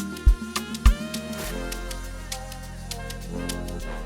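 A saxophone line plays within an FL Studio beat, its sustained tonal notes over a steady deep bass and a couple of hard kick hits near the start, the mix full and upfront with no voices.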